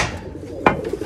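A black pigeon gives a single short coo close by against a steady low murmur, with quieter rustling sounds around it.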